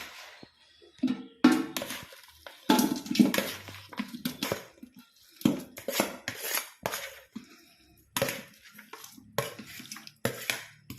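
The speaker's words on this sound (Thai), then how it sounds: "พอเราก็จะยกมาใส่หม้อนี่นะครับใส่ลงไป" Food is dropped into a cooking pot in a home kitchen, with irregular bursts of clattering metal and utensil knocks separated by short pauses.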